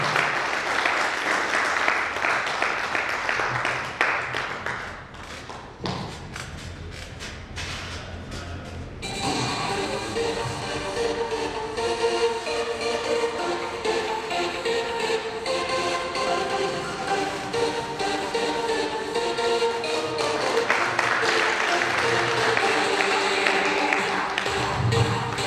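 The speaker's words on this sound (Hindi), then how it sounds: "जोरदार तालियां रवि जी के लिए, जोरदार तालियां।" A hall audience at a company's first-anniversary event gives a long, dense round of applause. Loud, steady clapping fills the start and end, and a tonal, music-like stretch runs through the middle.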